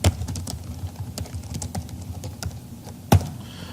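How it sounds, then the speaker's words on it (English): Light typing on a computer keyboard: a steady patter of soft, close key taps with one sharper, louder key press near the end, and no talking. "You can type in."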